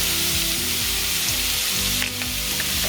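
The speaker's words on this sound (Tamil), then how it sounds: "இது வெங்காயம் நல்லா வெந்துட்டுருக்கு." Onions frying in a pan, a dense loud sizzle with repeated scraping stirs of a utensil, close up and continuous.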